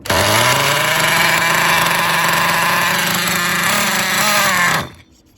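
A large model engine, an MGT 8.0, runs at a steady high-pitched buzzing whine for several seconds, then abruptly cuts out near the end.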